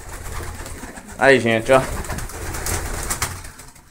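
Pigeons in a pigeon loft coo and call in a short burst under a man's nearby speech, with steady background noise around them.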